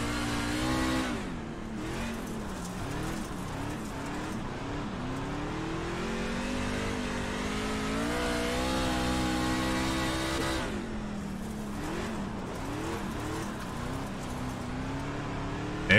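A dirt race car engine revs and drones continuously in iRacing on a dirt oval, loud and close, its pitch climbing and falling with throttle and dipping sharply around a corner.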